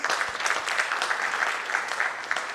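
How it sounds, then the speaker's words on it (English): An audience at a corporate learning and development summit and awards event applauds to welcome a speaker, with steady, dense clapping filling the hall at full strength throughout. "Can we welcome him with a big round of applause, please?"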